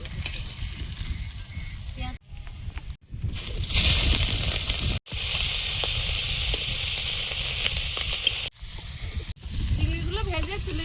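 Shrimp frying in hot oil give a loud, continuous crackling hiss broken by a few abrupt cuts, with a voice talking over parts of it.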